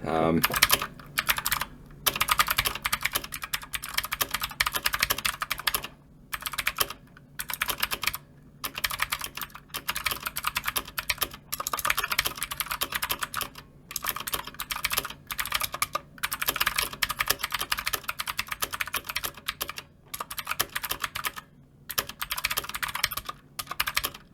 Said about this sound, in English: It's a mechanical keyboard with blue switches.